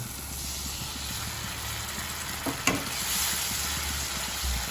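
Kashmiri chilli powder, coriander powder and salt sauté with a splash of water for a bitter gourd gravy, giving a constant hissing sizzle with one short spatula scrape partway through.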